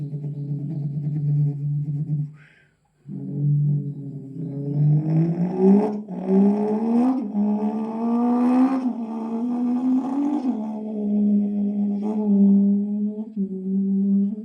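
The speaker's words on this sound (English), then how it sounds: "imagine that Porsche is starting in front of you and it goes on an empty highway in its top speed" Porsche 911 engine revving and accelerating, a steady, loud harmonic drone that briefly cuts out, then climbs in pitch through several gear-like rises and holds high, with no talk over it.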